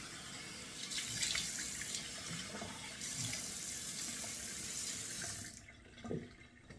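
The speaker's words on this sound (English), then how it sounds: "Turn on the faucets here, and let me do 2 splashes." Bathroom sink faucet running with a steady hiss of water, splashing as hands dip in, then shut off near the end.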